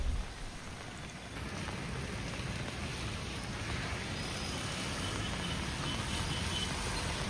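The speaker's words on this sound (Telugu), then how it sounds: "ఈ వర్షాలకి ఎవరు కూడా బయటికి వచ్చే పరిస్థితి లేకుండా వర్షాలు దంచికొడుతున్నాయి." Heavy rain pours down steadily in Ibrahimpatnam, Ranga Reddy district, a dense, loud, unbroken hiss of downpour with no voices, holding constant from start to finish.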